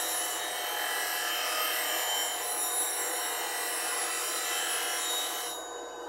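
A woodturning gouge is ground on a bench grinder running at 3450 rpm, a steady close hiss and rasp of steel on the wheel that eases off near the end.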